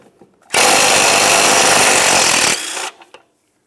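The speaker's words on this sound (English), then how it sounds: "Use a 17mm to remove the nut." An impact gun on a 17mm socket spins off the ball joint nut on a 2003-2007 Honda Accord front upper control arm, one loud continuous burst of about two seconds, close up, then a brief tapering whir.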